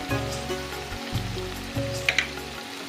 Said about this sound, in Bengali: এখানে দেখো মশলাটা আমাদের ভাজা হচ্ছে আর তার সাথে দিয়ে দিলাম একটু হলদি গুঁড়ো আর একটু মিক্স মশলার গুঁড়ো